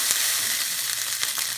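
Onions and peppers sautéing in a pan, with a steady close sizzle and a couple of soft stirring ticks over a brief moment.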